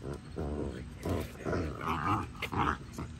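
Puppies growling and grumbling while they play, a run of low rough growls and whines close by, with bursts of higher yelps toward the end.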